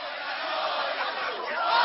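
A dense, compact crowd fills the streets of central Madrid, shouting slogans in March 2004; a loud, continuous roar of many voices holds steady for about two seconds with no gaps.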